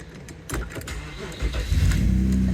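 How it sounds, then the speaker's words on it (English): An E36 car fitted with a lockout shifter starts to drive off for a test run. Its engine is heard up close, first idling and then swelling louder and deeper as the car pulls away. "Right, let's let Matt go for a drive and test how this feels."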